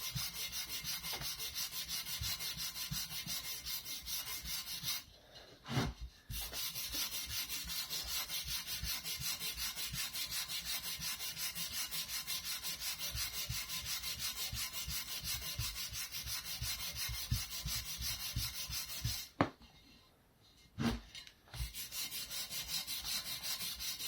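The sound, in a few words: rubbing a wheel rim with Scotch-Brite pad and WD-40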